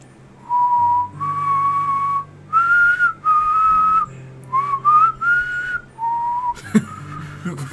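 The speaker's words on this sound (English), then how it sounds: "the little tune from Metal Gear Solid 4 that you could like play in the multiplayer" A whistled tune from the Metal Gear Solid 4 multiplayer, a short melody of clear sustained notes with gaps between phrases, close and loud, ending in a brief noisy burst.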